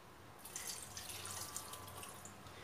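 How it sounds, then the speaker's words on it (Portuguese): A cup of water is poured into a pot while cooking tilapia, a brief soft splashing pour that starts after a short pause and fades out, faint and close. "E vou botar uma xícara de água, ó."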